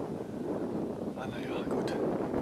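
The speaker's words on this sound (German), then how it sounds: "jetzt habe ich natürlich voller Wind" Strong wind buffeting the microphone at a wind park on the North Sea coast, a constant low roar with a brief voice-like tonal sound in the middle.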